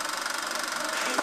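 High-powered drag racing dragster engine from a 1966 race, a steady dense roar with rapid knocking pulses, loud and continuous throughout the short stretch without any voices.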